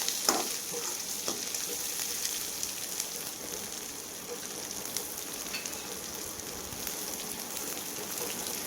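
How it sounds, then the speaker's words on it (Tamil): Curry leaves and onion sauté in oil in a pan, a continuous close sizzle and crackle like light rain, with occasional soft stirring scrapes. "ஒரு கொத்து கருவேப்பிலை 3 போட்டு லைட்டாக வதக்கிக்கோங்க. ஆனியன் வந்து லைட்டாக ப்ரௌன் கலர் வந்தால் போதும்"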